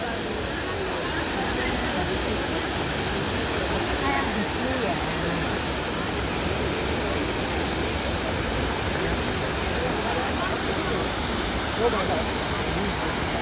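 Water from the Trevi Fountain in Rome pours in a steady, dense, even rush, close by and unbroken, with faint crowd murmur beneath.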